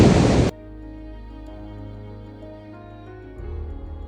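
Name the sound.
rough sea waves breaking on Kudle Beach, Gokarna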